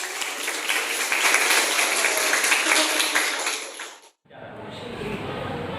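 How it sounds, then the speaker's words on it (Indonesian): A class claps for students after their presentation in a practice teaching lesson, with dense, loud applause lasting about four seconds before stopping abruptly, followed by quieter room noise. "Beri tepuk tangan"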